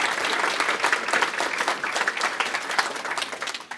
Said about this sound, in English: Give Sammy another round of applause.